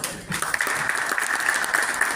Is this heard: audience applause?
yes